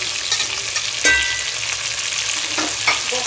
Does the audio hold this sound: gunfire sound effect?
no